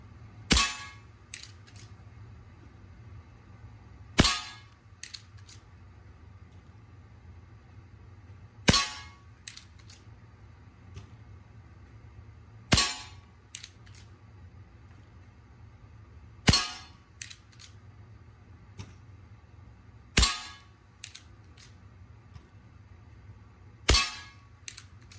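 A Hatsan Vectis .22 air rifle fires seven sharp, cracking shots at an even pace, each followed by a faint metallic ring, with quiet between them.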